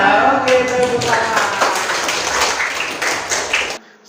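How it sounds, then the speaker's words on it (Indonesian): Students in a classroom clap their hands together in a lively, continuous burst lasting several seconds, mixed with voices, then it stops abruptly. "Oke, tepuk tangan."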